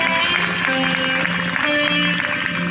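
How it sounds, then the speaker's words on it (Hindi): Steady applause from an audience fills the clip, dense clapping with some tonal music or voices faintly underneath. "एक बार प्रेम से गौ माता के लिए जोरदार ताली आप लोग बजाएंगे"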